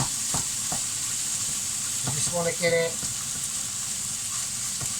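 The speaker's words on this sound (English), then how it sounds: "remember you want it frying, not boiling, alright?" Chicken stir-frying for a peanut butter, garlic and chilli stir fry, sizzling and hissing steadily in a hot pan, with a spatula stirring and scraping through it while a person talks over it.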